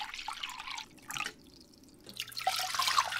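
Water pouring into a pot to make Maruchan instant ramen, heard up close as two splashy bursts of pouring separated by a short pause, the second one longer and fuller.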